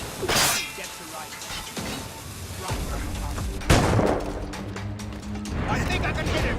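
In Assassin's Creed Rogue, gunfire cracks out in a few loud, booming reports with a sharp blast near the middle, among clanking mechanical game sounds while voices talk over the action.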